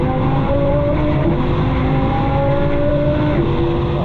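Lamborghini Huracan Tecnica with a 640-horsepower V10 engine running steadily, a loud, continuous close-up drone with layered engine tones that shift slightly in pitch, heard alone without talk.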